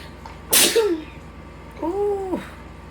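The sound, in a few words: sneeze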